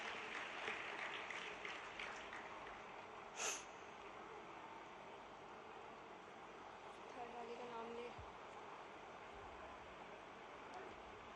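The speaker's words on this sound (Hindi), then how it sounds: "एक बार जोरदार तालियों से इनका धन्यवाद किया जाए।" Faint, distant applause from an audience at a public event with a chief minister, greeting a girl who played national-level kho-kho, a steady wash of clapping over a low background hum with some murmuring voices.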